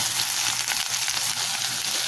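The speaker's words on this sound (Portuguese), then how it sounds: "E agora ele vai ficar fritando para eu acrescentar as verduras." Bacon, sausage and vegetables fry in a pan, giving a steady, close, dense sizzle with faint stirring, with no talk over it.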